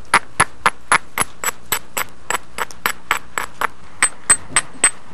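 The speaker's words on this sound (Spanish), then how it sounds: "Se suele empezar usando una piedra y luego se utiliza el martillo suave, o sea, el asta" Stone is knapped with a hammerstone, giving about eighteen sharp, bright clicking strikes in a steady, fairly even rhythm, close and loud with no talking.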